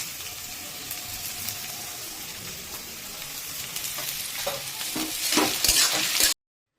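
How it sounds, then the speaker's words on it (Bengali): Chopped onion and green chilli fry in hot oil, a steady close sizzle with stirring that grows louder and more crackly toward the end before cutting off abruptly. "এই যে কুচনো পেঁয়াজ আর কুচনো কাঁচা লঙ্কায় যে ভাজাটা হচ্ছে"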